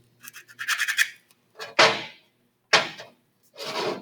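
Close, bristly scrubbing in several short bursts separated by pauses, a brush rubbed hard against a metal disc brake caliper to clean old silencer out of its grooves.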